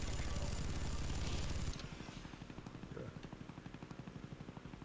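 Chopper gunner helicopter killstreak in Black Ops 1 on the Berlin Wall map: a loud, steady rotor thump that drops to a quieter rhythmic beating partway through, with game noise mixed in.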